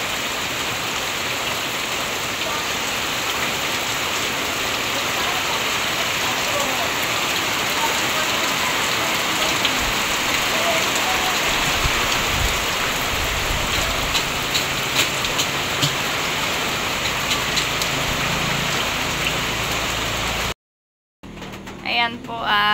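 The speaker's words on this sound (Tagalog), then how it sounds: "Lalo pong nalakas ang ulan," Heavy rain pours steadily outside a house, a dense, loud hiss of water on surfaces that continues unbroken for about twenty seconds before a brief drop-out and a few final moments.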